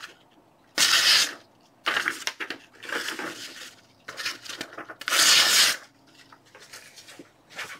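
A Bear and Son Gold Rush Bowie knife slicing through paper, several loud, crisp tearing cuts in separate bursts with short pauses between, close up and with no talking.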